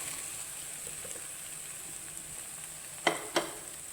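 Eggs and tomato masala sizzle steadily in a pan for a muffle-close stretch, a soft continuous frying hiss with two brief sharp clinks or stirring knocks near the end; no talking.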